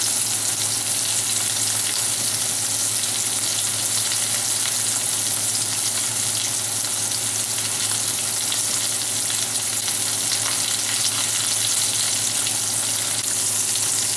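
A beef chuck roast sears in a pan, a constant loud close sizzle and crackle that holds steady throughout with no voices.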